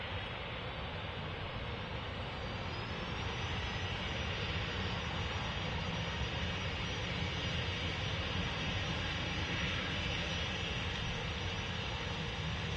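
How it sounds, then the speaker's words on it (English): A Ryanair Boeing 737-800 jet departs Manchester Airport with a steady, broad engine roar that holds at an even loudness throughout, with no voices. "Ryanair 737-800 next out."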